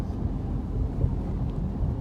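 Distant thunder from a lightning storm rolls as a low, continuous rumble outdoors, fairly faint with no voices.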